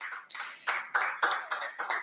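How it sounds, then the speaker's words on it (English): An audience claps for a speaker at a teachers' event, a short burst of scattered hand claps in uneven clusters, fairly close and moderately loud, with no talk over it. "Can we please give her another round of applause?"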